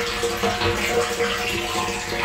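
Water from the municipal corporation supply pours into a tank with a steady, close, rushing splash that holds constant throughout.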